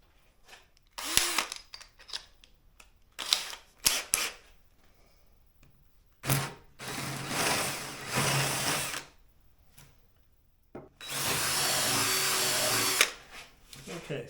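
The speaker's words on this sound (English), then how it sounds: "the final cut will move to a 1/2" bit" Power drill with a 1/2 inch bit boring holes through a boat rudder: several short whirring bursts, then longer grinding runs as the bit cuts through, with talk in between.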